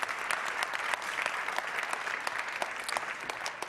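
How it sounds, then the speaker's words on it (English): An audience at a live London panel event on circular-economy innovation applauds, a dense, even patter of many hands clapping from a moderate distance, holding steady for the whole stretch with no one speaking. "them a round of applause."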